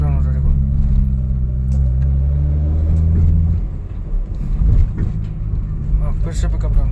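A Hyundai Accent with a misfiring engine that loses pickup drones loudly from inside the car while driving, its low rumble wavering and dipping unevenly as someone talks over it.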